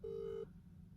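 A phone placing a call to a doctor's office gives a single steady beep tone lasting under half a second, clear and alone against a faint background hum.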